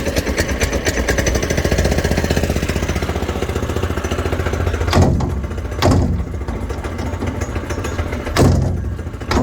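A golf cart converted from electric to a gas-powered Predator 212 engine runs loudly and steadily up close, its engine drone punctuated by several sharp clunks and bangs near the end.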